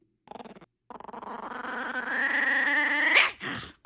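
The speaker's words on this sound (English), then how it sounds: "a happy, very cute little puppy" A small puppy whimpers and yips, short whines breaking into a long rising, quavering cry that ends in a sharp yelp, close and alone.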